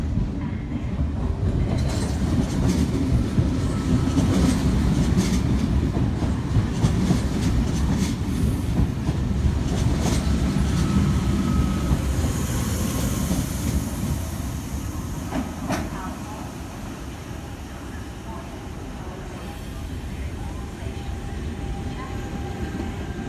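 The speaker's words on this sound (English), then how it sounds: "V38 Katoomba service arriving into platform number 2" A Sydney Trains V set double-deck electric train on a Katoomba service rolls into a platform at Redfern station, with a steady loud rumble, clickety-clack of wheels and occasional metallic squeals that ease off as it slows.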